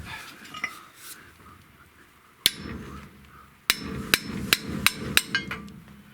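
A hammer taps on truck brake parts on a C20: one sharp metallic strike, a pause, then a quick series of about seven ringing taps, close and loud against quiet background.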